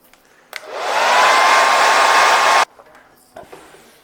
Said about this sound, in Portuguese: Vou secar com o secador